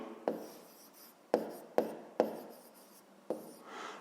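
Pen strokes on paper while working a fifth-grade math exercise: five or six short, scratchy marks with sharp starts and brief trailing rubs, close and fairly quiet, with no talk.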